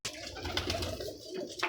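Pigeons coo softly and continuously, several birds overlapping in a close, busy murmur with faint rustling.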